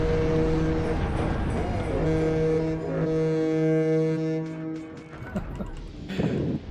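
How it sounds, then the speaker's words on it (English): A long, deep, steady ship horn blast in World of Warships, with layered harmonic tones, drones for several seconds, then fades into rumbling engine and game noise. "That was legitimately the train horn sound."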